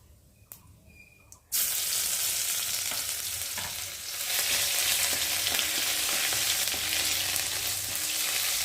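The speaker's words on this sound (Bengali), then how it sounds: "রসুনটা ভালো করে ভেজে নেবো" Garlic added to hot oil with cumin bursts into a loud, steady sizzle after a quiet start, the frying hiss continuing strongly with faint scraping in a kitchen.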